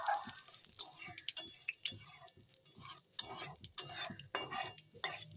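Washed bay leaves hitting hot oil in a pan with a light crackling sizzle, punctuated by scattered scrapes and clinks of a spoon stirring the tempering; fairly quiet and close, no talk.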